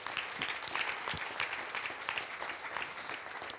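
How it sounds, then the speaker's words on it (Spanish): A church congregation claps in a steady, sustained round of applause during a Sunday service, dense and moderately distant, filling the room without speech. "¿Se anima a dar un fuerte aplauso al Rey de Reyes?"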